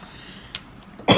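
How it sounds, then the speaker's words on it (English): A single sharp cough near the end of a quiet stretch, preceded by a smaller throat noise, close to the microphone. "I'm sorry, guys, I have a cough."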